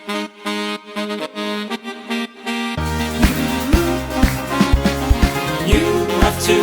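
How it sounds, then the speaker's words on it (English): Saxophones play in short, choppy bursts, then a full mix enters where the horns swell and duck rhythmically, pumping in time with a beat. "giving it this volume envelope, which gives this pumping sound."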